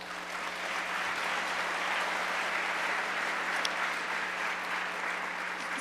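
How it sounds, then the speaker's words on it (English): An audience at an engineering event gives its panelists a steady round of applause, continuous clapping heard at a moderate distance throughout. "please give our panelists a round of applause"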